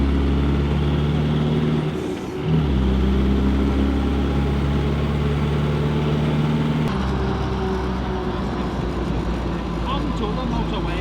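A car drives along the motorway, its engine and road noise a loud, steady drone that dips briefly early on and then carries on without a break.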